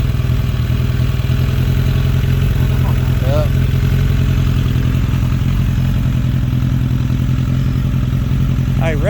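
Lowered 2006 Suzuki Katana motorcycle idling steadily nearby, a continuous low engine rumble running throughout with faint voices in the background.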